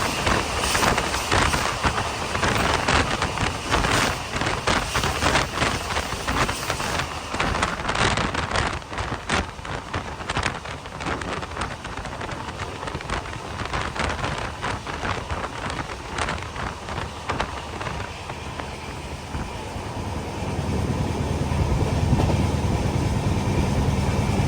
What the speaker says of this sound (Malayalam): റാണി ബെന്നൂർ റെയിൽവേ സ്റ്റേഷനിലേക്ക് ഇതാ നമ്മുടെ ട്രെയിൻ എത്തിക്കൊണ്ടിരിക്കുകയാണ്.